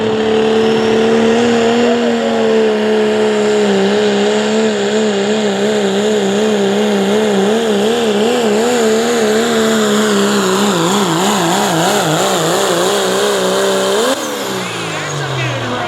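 Super Stock pulling truck launching at a truck and tractor pull at Dragway 42 in West Salem, Ohio: a loud, sustained engine roar with wavering revs that surges, then drops off near the end, with an announcer talking over it.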